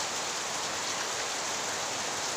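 Steady rain falls without a break, a dense, even hiss with no voices or other sounds over it.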